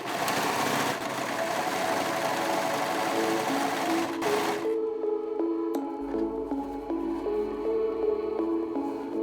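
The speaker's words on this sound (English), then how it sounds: "the serger here on this excess fabric with all of the layers." A serger runs continuously through several layers of excess fabric, a loud, steady mechanical whir that shifts to a lighter, more rhythmic stitching tone partway through.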